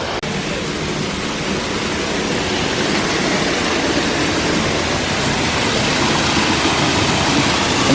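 A waterfall at the Dallas Arboretum pours in a dense, constant rush. The close, loud broadband roar of falling water holds steady throughout with no voices.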